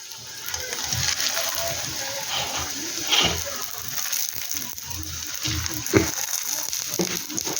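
Three aloo paneer parathas frying together in hot oil in a pan, giving a steady crackling sizzle with irregular pops and small clatters throughout, no voices.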